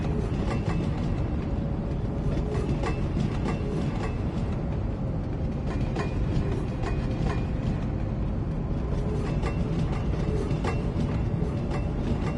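Train rolling through a rail hub in the city-building game Cities: Skylines, a steady continuous rumble with faint rhythmic clicks and mechanical creaks, moderately loud and unbroken with no talk.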